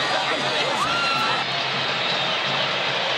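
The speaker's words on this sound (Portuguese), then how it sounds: "O som da torcida do Vasco" Vasco supporters roar in a packed stadium celebrating the Série B title, a dense, steady wall of crowd noise with scattered whoops, loud and unbroken, with a voice talking over it.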